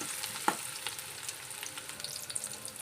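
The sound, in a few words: onion frying in hot oil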